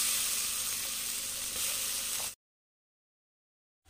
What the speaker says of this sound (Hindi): अब हमें प्याज को जब तक भूनना है जब तक ये गोल्डन ब्राउन नहीं हो जाती।